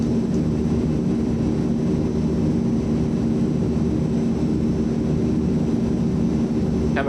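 Steady drone of the Azurpoly C-160 aircraft engines in MSFS 2020 during descent, a continuous broadband roar with constant loudness throughout and no speech.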